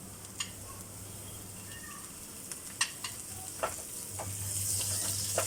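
Chicken pieces hitting a hot pan of fried ginger and garlic, with a steady sizzle and scattered sharp clicks and pops from stirring, the frying swelling louder near the end; no one talks.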